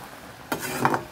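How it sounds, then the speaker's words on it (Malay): Beef lung pieces hit hot oil and start frying until crisp, a faint short burst of sizzling and bubbling with a brief stir, heard up close. "Kita goreng sampai dia betul-betul garing."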